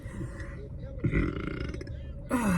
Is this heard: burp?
yes